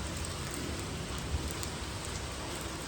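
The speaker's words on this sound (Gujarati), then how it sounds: "આ શ્રાવણ માસનો વરસાદ ચાલુ થઈ ગયો છે" Heavy monsoon rain pours steadily, a dense, constant roar of water hitting surfaces nearby with no voices.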